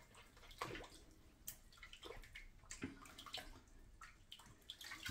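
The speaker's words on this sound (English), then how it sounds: "let me just rinse off my washcloth here" Water runs and splashes as a washcloth is rinsed in a bathroom sink during a wet shave, with steady close splashing and gurgling bursts throughout, no talking.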